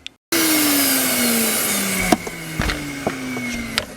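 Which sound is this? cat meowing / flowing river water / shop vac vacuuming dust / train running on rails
shop vac vacuuming dust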